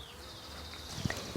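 A bee buzzes close by outdoors among garden plants, a thin droning hum with a slowly shifting pitch across the brief moment, fairly quiet, with a couple of soft knocks near the end and no talking.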